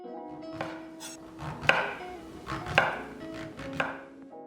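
A knife slices king oyster mushrooms into half-centimetre slabs on a board, several separate crisp cuts with soft knocks, close and unhurried with no talk.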